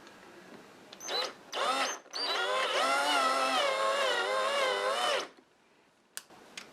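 A replacement 4.5mm drill bit cuts the head off a rivet on a Dinky Toy Ford Zephyr 162 model car. Two short whirring bursts come first, then a sustained, wavering motor whine for about three seconds, close and fairly loud.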